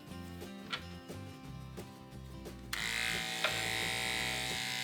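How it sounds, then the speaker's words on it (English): Electric clippers buzz steadily and close up while trimming the fur on the underside of a dog's paw. The motor hum continues throughout and turns brighter and louder partway through. "Now I'm just gonna take my clippers and touch up the underside of the paw."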